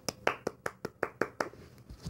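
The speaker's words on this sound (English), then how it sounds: "I give a rousing applause to him." One person claps hands about eight times in a quick, even rhythm, close by and fairly quiet, with no talking.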